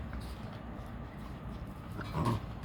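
Eight-week-old Labradoodle puppies wrestling with a five-month-old dog, giving a steady mix of low growls, snorts and scuffling, close and continuous with a louder burst near the end.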